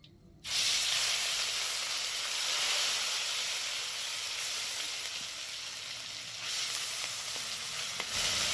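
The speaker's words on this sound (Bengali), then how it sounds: "ওই তেলের মধ্যে দিয়ে দিচ্ছি পেঁয়াজ আদা রসুন বাটাটা" Onion, ginger and garlic paste sizzles loudly in hot oil, a steady close hiss that sets in abruptly and continues unbroken, with no talking.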